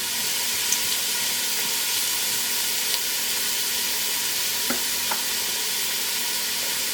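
Onions and celery soften in a soup pot over fairly low heat, giving a steady, gentle sizzle and hiss with a few faint clicks, continuous and close.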